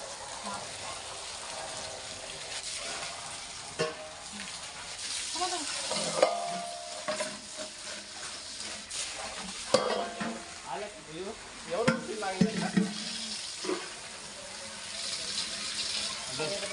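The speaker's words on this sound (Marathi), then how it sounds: "पाणी भरून घेते" Water runs into a household tank with a continuous faint rushing, broken by occasional clatter and knocks of buckets and utensils nearby.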